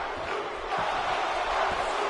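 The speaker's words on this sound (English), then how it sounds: "The crowd chanting, Lucha, Lucha, Lucha." A WWE 2K17 arena crowd chants for a lucha tag match on 205 Live, a dense, steady roar of many voices with rhythmic swells rising from the background.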